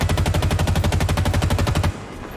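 Assault rifle fire in Halo Infinite: a loud, rapid automatic burst of evenly spaced shots for about two seconds, then a sudden stop.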